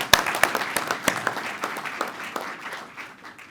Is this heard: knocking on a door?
no